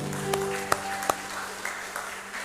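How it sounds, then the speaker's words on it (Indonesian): Church congregation applauding, a soft patter of clapping at moderate distance, marked by a few sharper claps and a faint tonal ring in the background. "Semua jemaat, ada jemaat yang baru mungkin baru kenal, kita beri tepuk tangan"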